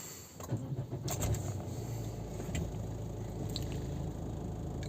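A Chevrolet Captiva engine cranks and catches, then settles into a steady close idle after a few clicks and a brief surge, with no talking.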